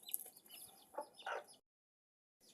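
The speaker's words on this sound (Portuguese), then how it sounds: "Aqui também tem umas galinhas." Chickens clucking close by outdoors at dusk: several short, faint clucks and squawks come in a loose, irregular run, then silence, then a brief return at the end, with no talking.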